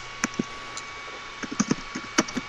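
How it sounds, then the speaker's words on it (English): Vigorous typing on a computer keyboard, a scattered run of sharp key clicks in uneven bursts, close and fairly crisp over a quiet background. "I can hear every single keyboard or key every time you type it."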